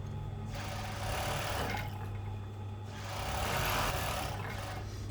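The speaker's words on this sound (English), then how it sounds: "So now I just do normal overlocker for the end." An overlocker sewing machine runs steadily while finishing a lettuce edge hem on fabric, a continuous close mechanical whir with a low motor hum that swells and eases in two long runs, with no talking.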